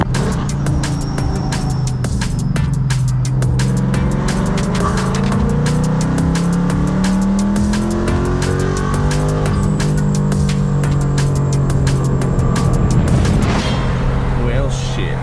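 A supercharged Ford Mustang engine pulls hard on a data-logging run, its loud revs climbing and falling in sweeping surges close by, with someone talking over it at times.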